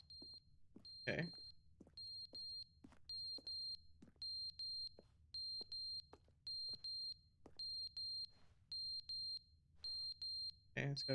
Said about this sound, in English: it's gotta be a smoke alarm.